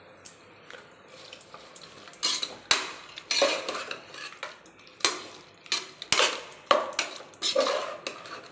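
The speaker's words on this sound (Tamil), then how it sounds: "சால்ட்டு போட்டுட்டு கொஞ்சம் நேரம் அப்படி கிண்டி விட்டுக்கலாம்." Mutton curry in a village-style uppu kulampu being stirred in a pot, with repeated scraping and clinking of a spoon against the metal, close and fairly loud, coming in irregular bursts with no talking.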